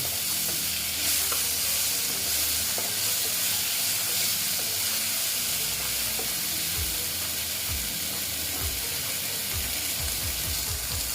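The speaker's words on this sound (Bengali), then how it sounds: "আমি এটা ভালো মতো ভেজে নিচ্ছি" Small fish frying with salt in a pan, giving a continuous sizzle with scraping and stirring clicks from a spatula, close up and steady, growing more rhythmic toward the end; no voices.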